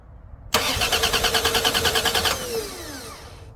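A Mopar Dodge engine cranks on its starter in a close, loud burst of rapid rhythmic churning lasting about two seconds, then the starter whines down without the engine catching.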